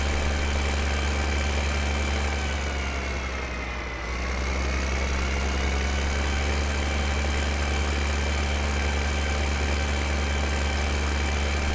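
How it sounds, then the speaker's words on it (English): Old tractor engine idling in Farming Simulator 2015, a steady loud low rumble with a brief dip in pitch partway through, continuous and alone with no talking. "Oh, that is an old engine."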